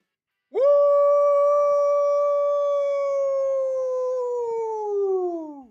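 A person imitates a long wolf howl, one sustained wavering voiced cry that rises quickly, holds steady for several seconds and slowly falls away, loud and close with no other sound around it.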